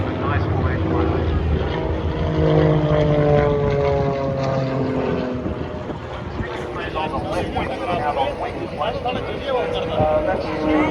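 Propeller aerobatic planes, including an RV-7, flying in formation at the Barossa airshow, a loud continuous engine drone with shifting pitch, heard under steady commentary.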